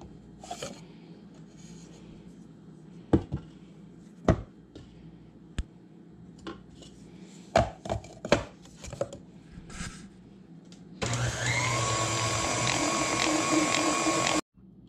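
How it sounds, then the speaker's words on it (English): Flour-dipped butter shredded on a grater for pie crust: scattered sharp rasping scrapes, then a sustained loud grinding passage near the end. "if you dip it in flour, you can shred it a little bit better"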